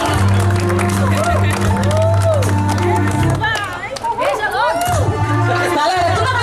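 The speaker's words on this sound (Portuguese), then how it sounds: "Uma salva de palmas, pessoal." Party crowd applauding and cheering for a married couple, a loud sustained wash of clapping mixed with lively chatter and shouts close by, people talking throughout.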